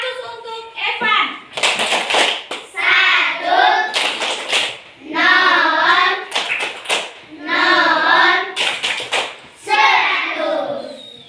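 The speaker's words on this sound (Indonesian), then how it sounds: "Baik, tepuk 100 untuk Evan." Classroom pupils perform a patterned group clapping chant, sharp bursts of claps alternating with children's voices chanting in rhythm, loud and close.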